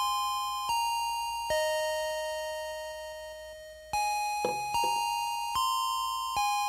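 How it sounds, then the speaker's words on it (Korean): Korean school bell chime, a clean electronic ding-dong melody of several sustained tones, each note struck and slowly decaying, playing alone and fairly quiet. "이 노래만큼이나 또 가장 많이 듣는 추억의 종소리 하나 더 들어보시겠습니다"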